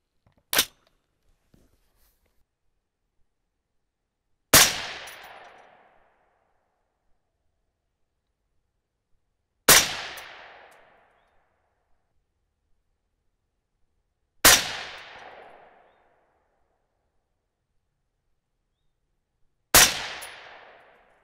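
A 6.5 Creedmoor rifle firing 130gr Berger Hybrid loads over Reloder 15.5 powder: five loud, sharp single shots about five seconds apart, each trailing off in a brief reverberant echo.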